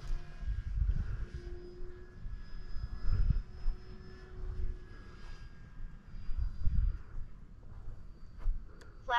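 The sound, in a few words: Turbo Timber Evo model airplane flying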